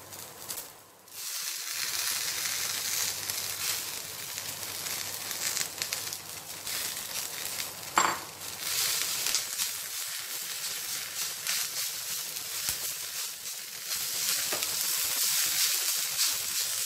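Mint leaves frying in oil with green chillies and curry leaves for a mint-tomato chutney, a continuous bright hiss of sizzling close up with occasional crackles, no voices.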